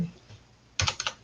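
Brief burst of computer keyboard typing after a near-silent pause, a quick cluster of close clicking keystrokes near the end.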